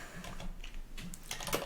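A short burst of close, quick clicking keystrokes on a computer keyboard as a reboot command is typed on a Linux machine, alone without talk.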